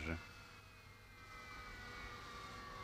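A jet aircraft on an airfield in 1961 rolls to a halt near the camera: a steady engine whine and rumble with high tonal lines, holding at a fairly even level after a brief louder burst at the start.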